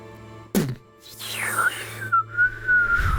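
A person whistling to imitate an arrow arcing down during a tabletop role-playing game: a rising then long falling whistle, close and fairly loud, with a short thump near the start.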